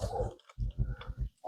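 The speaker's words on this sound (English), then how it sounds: "My dog is going crazy." A pet dog barks and growls at a trash collector, several short, low, rough bursts in a rapid uneven run, heard indoors at moderate distance.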